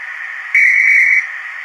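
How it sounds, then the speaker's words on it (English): A train guard's whistle sounds over a station announcement recording: one loud, steady shrill blast of about two-thirds of a second rising above a continuous hissing whistle-like background tone, with no voice present. "You now hear the guard's whistle."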